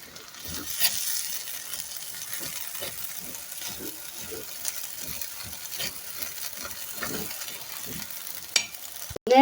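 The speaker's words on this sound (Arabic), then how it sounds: "هنقلب كده تقليبه حلوه" Soaked rice fries in a pan for a fish-and-rice sayadieh, with a soft continuous sizzle and a steady series of close scraping stirs, no talk.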